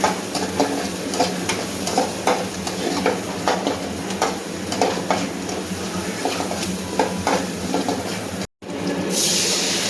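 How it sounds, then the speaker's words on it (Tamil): Something sautéing in a pan toward golden brown makes a continuous close sizzle with repeated scraping stirs. A short gap comes near the end, then a brighter, steadier hiss. "நல்லா பொன்னிறம் வர அளவுக்கு நம்ம வதக்கிக்கலாம்"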